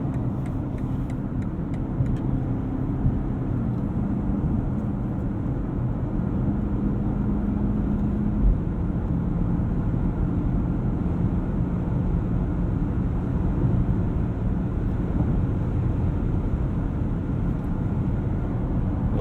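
A 2020 BMW X7 M50i cruising at high speed with an automatic gearbox, giving a steady, dense road and wind roar from inside the cabin that stays even and unbroken throughout.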